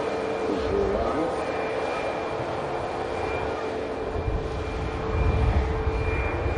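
A fixed-wing airplane arriving at an airport to land, heard as a steady, fairly loud engine roar that holds through the clip and swells slightly near the end, with talk underneath.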